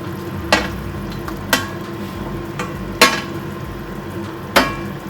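Paneer masala with onion and capsicum being stirred in a pan, a steady frying sizzle underneath and four sharp scrapes or knocks of the spoon against the pan at irregular intervals, close and clear with no talking.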